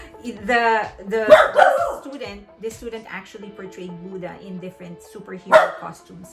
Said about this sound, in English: he's communicating to another dog who's barking